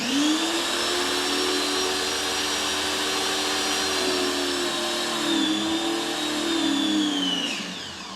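Greenworks 2000 PSI electric pressure washer running steadily at close range, a loud whining motor drone with a slight pitch dip midway before it winds down near the end.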